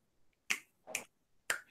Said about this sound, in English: snap your fingers twice.